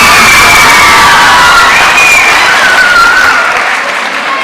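Loud applause mixed with cheering, whoops and shouting children as an eighth grade graduation crowd celebrates a teacher, sustained and close, easing slightly toward the end.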